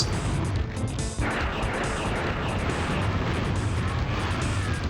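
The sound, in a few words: explosions in a video game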